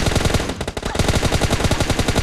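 Rapid automatic gunfire during a firefight in PUBG Mobile, loud and close, a dense steady stream of shots with a brief stutter, no talk.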